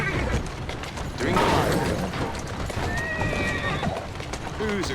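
A horse neighs and whinnies over clip-clopping hooves and faint mechanical ratcheting in the video game Assassin's Creed Syndicate, the whinny rising in the middle and repeating near the end, with a voice at times.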